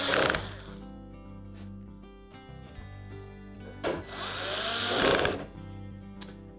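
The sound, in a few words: retaining screws being driven into a Frigidaire range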